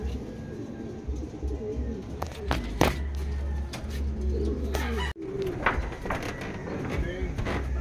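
Racing pigeons, young birds at a training loft in Lucena, Quezon, give low, rolling coos that repeat at a steady rhythm over a continuous outdoor background, with a few sharper bird calls scattered through it.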